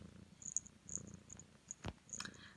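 A rescued house cat purrs close and steady, a soft low rumble running through the whole stretch with a few faint clicks and rustles above it.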